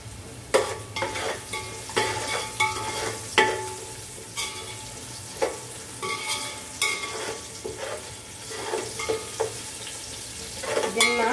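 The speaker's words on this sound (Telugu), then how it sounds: "మసాలా దినుసులు, ఉల్లిగడ్డ ముక్కలు, పచ్చిమిరపకాయలు వేస్తున్నాయి." Whole spices, onion pieces and green chillies frying for chicken biryani, a constant sizzle punctuated by frequent clanking stirs against the pot, close up and without speech.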